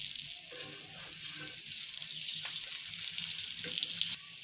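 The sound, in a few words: paratha cooking on a hot oiled tawa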